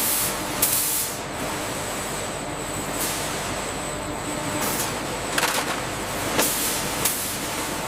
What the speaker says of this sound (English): Increase the spray volume on the next section.